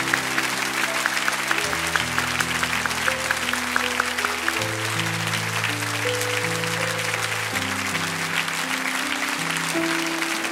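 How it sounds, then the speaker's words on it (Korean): A large church congregation applauds steadily at a Korean anniversary worship service, continuous dense clapping over sustained organ or keyboard chords playing throughout. "우리 한 번 더 큰 박수로 축복합니다"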